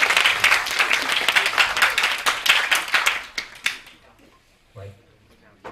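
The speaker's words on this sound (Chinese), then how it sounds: "所以我们现在就用最热烈的掌声欢迎他们" Audience at a high school campus concert applauding to welcome performers, loud dense clapping that gradually thins out and fades, with a voice briefly heard near the end.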